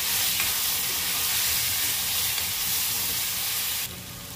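Cumin and ground spice paste frying in a pan, giving a steady, close hiss and sizzle that runs without a break for a few seconds, with no talk over it.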